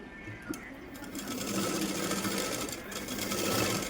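A sewing machine stitches a blouse's lining cloth to the main fabric with a pinch margin, running in a steady, continuous whir close by with no voices.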